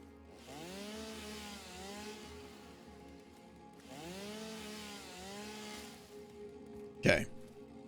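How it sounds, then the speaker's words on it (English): Two long revving passes of a chainsaw cutting down a tree in the video game Satisfactory, the motor pitch swooping up and down in each pass, followed by a sharp crack. "Let me get a little chainsaw action here to chop this down."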